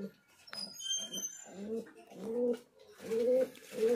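Fancy pigeons in a pigeon loft give soft, repeated low coos in a close, rolling sequence, with a few faint higher chirps early on and a quiet background.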